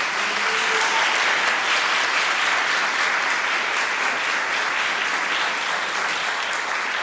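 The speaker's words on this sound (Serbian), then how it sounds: "Molim da ih pozdravite jednim aplauzom" A festival audience at the RETNIK world music festival in 2015 applauds steadily and loudly, with dense clapping that stays even for the whole stretch.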